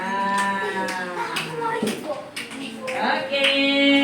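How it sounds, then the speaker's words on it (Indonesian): Students in a classroom clap for a classmate, with scattered, uneven handclaps under loud, sustained children's voices calling out together. "Tepuk tangan untuk Mbak Aisyah"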